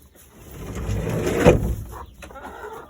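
A broody hen in a backyard coop lets out a close, loud, drawn-out grumbling cluck that swells and fades over a few seconds.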